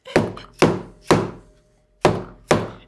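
A wine fermenting bucket's lid seal is hammered down on a tomato-wine batch with five heavy, hollow thunks in a steady rhythm and a brief pause before the last two, close and loud with no voices.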